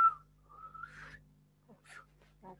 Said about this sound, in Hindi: किस किस्म की सीटी बजा रही हूं मैं